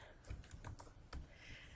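Button presses on a graphing calculator keypad while entering a quadratic expression, a handful of soft, irregular clicks close by in a quiet room.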